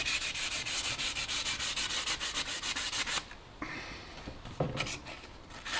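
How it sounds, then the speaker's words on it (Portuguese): Sandpaper rubbed by hand across a carbon fiber swim fin blade, close and loud, first in quick rhythmic back-and-forth strokes and then in a few slower, separate scrapes. "Agora vou passar a lixa. Vou passar a lixinha aqui nesta parte do..."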